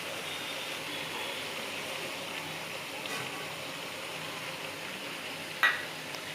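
Chicken frying in a pan makes a quiet, steady sizzle with a faint watery hiss throughout, broken by a single short clink of a spoon against the pan near the end.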